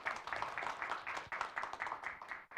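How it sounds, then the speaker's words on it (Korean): An audience claps continuously in applause at a startup IR pitching event, cheering on the ten finalist teams, the sound a steady, dense patter of many hands at moderate volume. "여러분 최종 결선에 오른 10팀을 위해서 응원의 박수를 먼저 보내주시면 어떨까 싶습니다"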